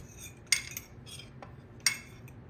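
A spoon stirs ripe jackfruit with all-purpose flour, cardamom powder and sugar in a bowl, giving two sharp utensil clinks against the dish plus a few lighter taps over quiet background.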